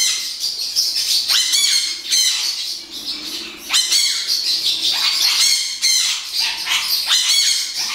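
A pet bird squawks and chirps loudly and close by, in a near-continuous stream of harsh, bright calls with no talking.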